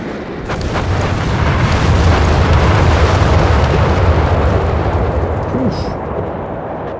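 An artillery strike in the Company of Heroes 3 strategy game, with shells landing on a targeted zone: loud, dense, overlapping explosions merge into a continuous roaring rumble that swells and slowly eases over several seconds.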